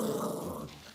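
Dog growling low and rough for about a second, close and fairly loud, fading slightly toward the end.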